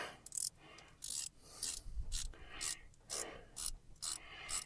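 Faint, rhythmic metallic ratcheting as a part is tightened down on an old Rambler engine that sat for over 30 years, short repeated strokes with scraping in between.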